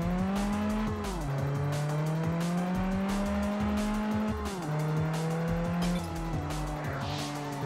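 A car drifting in the PS2 racing game Test Drive Unlimited during a C-class race, tires squealing over a loud, continuous engine drone whose pitch rises and drops with gear changes.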